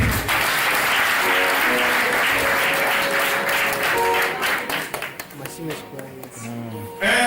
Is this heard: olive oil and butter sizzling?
no